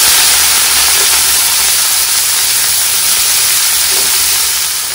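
Shredded cabbage hits hot oil with cumin seeds and sets off a loud, steady, broadband sizzle that carries unbroken from start to finish.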